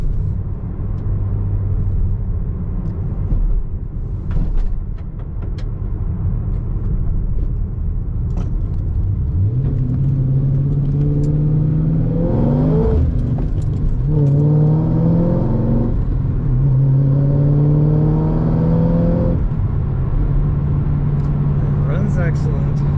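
A 2010 Chevrolet Camaro SS SLP ZL575 with a six-speed transmission idles with a steady low rumble, then its engine revs up in several rising bursts, loud and close, with a voice talking over it.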